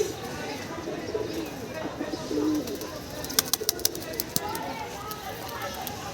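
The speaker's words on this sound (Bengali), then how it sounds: "এখন অনেকগুলো কবুতর উঠতেছে" A loft of pigeons taking off: soft cooing and flutter close by, then a quick run of sharp wing claps, with someone talking over it.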